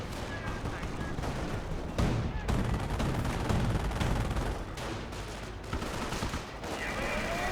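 An MG bunker in Company of Heroes rattles off sustained machine-gun fire, dense overlapping bursts of gunfire with heavy battle noise throughout, loud and continuous.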